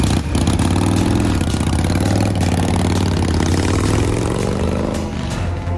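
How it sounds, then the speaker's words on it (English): A Harley-Davidson motorcycle engine idles loud and close with a deep, steady rumbling throb, its pitch rising slightly toward the end. "The roar of a Harley Davidson motorcycle is more than just the sound of an engine."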